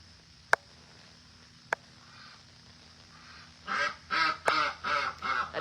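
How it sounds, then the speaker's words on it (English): A duck quacking nearby, a run of five or six loud rhythmic quacks after two sharp isolated clicks in an otherwise quiet room. "A duck has taken over mail chat."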